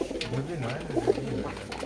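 Giribaz pigeons coo in low, rolling, repeated murmurs, close by and moderately loud, with a faint voice in the background.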